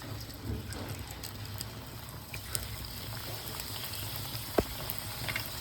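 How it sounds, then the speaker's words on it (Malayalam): Kannur-style samosas fry in hot oil in a kadai, giving a soft continuous bubbling sizzle at low level, with a couple of brief sharp clicks near the end and no voices. "എണ്ണ നന്നായി ചൂടായിട്ടുണ്ട് നമുക്ക് ഓരോന്നായി ഇട്ടുകൊടുക്കാം"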